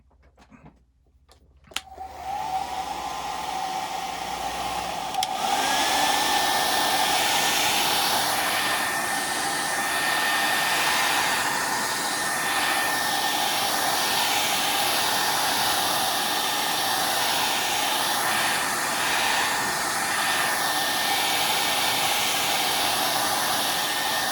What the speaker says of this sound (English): And then I want to take my hair dryer again.